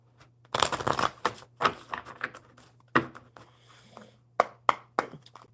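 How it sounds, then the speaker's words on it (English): Crisp riffling bursts of a card deck being shuffled, several quick ruffles and snaps with a low steady hum underneath, close and fairly loud. "One more good shuffle."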